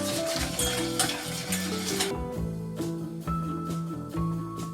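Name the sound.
whisking milk in a bowl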